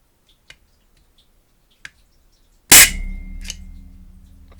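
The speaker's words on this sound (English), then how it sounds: "Okay, first shot here." A single loud, sharp shot from a Black Ops Langley sniper air rifle cracks close by after a few faint clicks, followed by a short ringing decay.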